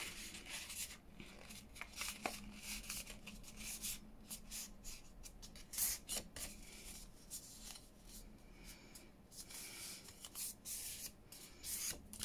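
A paper bookmark is folded in half: quiet, close rustling and rubbing of paper, with soft creasing strokes and a few brief crackles, alone and faint throughout.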